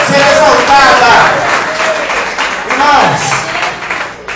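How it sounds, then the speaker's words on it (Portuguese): A Pentecostal church congregation claps loudly in a brief round of applause that tapers slightly, with voices mixed in among the clapping. "uma salva de palmas à palavra de Deus"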